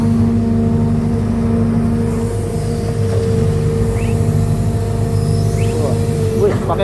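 An excavator engine beside rice paddies drones steadily and loudly up close, a constant low mechanical rumble with occasional faint knocks over it.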